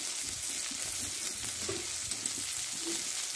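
Potatoes and long beans cooking with ground coriander, cumin and chili in a pan, a soft continuous sizzle with faint stirring scrapes, fairly quiet.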